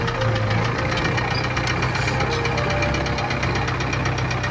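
Homemade mini tractor powered by a VW 1.9 diesel engine, running at a steady idle with a rough, knocking diesel clatter and vibration, close and continuous throughout.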